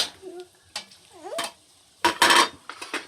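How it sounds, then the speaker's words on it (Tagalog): Octopus going into a cooking pan with seafood and glass noodles, sharp scrapes and clanks of a utensil against the pan and bursts of sizzling, with brief voice sounds between them. "Lagay na natin tong octopus natin."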